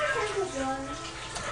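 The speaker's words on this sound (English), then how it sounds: "you can hear the water from the washing machine in the background" Water runs steadily inside a household washing machine in the background, a constant hiss and slosh under a voice speaking nearby.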